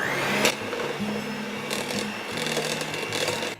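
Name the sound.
hand mixer creaming butter and brown sugar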